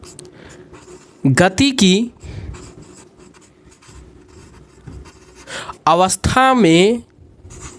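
A pen scratches out handwritten notes during a Hindi-language class 12 physics lesson, with soft continuous strokes heard close up between two bursts of a man's speech.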